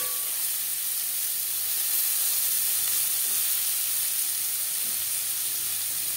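Chopped onions hit hot oil in a kadai just used for frying small puti fish, giving a steady, bright sizzle that hisses continuously up close with no voices.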